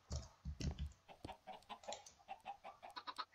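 Chickens in a Minecraft Mineplex minigame cluck repeatedly, with quick, busy bursts of clucking at close range and low volume and no talking.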